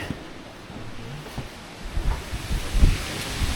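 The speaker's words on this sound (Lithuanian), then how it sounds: "Oho, kaip šiandien vėjuoja." Strong wind blows outdoors at Malbork castle, a steady rushing hiss that builds into heavier, rumbling gusts buffeting the microphone toward the end, with no voices.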